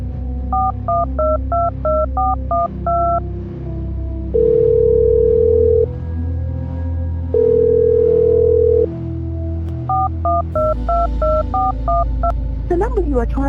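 A phone number is keyed in as a quick run of electronic touch-tone beeps, followed by steady long dial tones, then a second burst of keypad beeps, all loud and close over a low background hum.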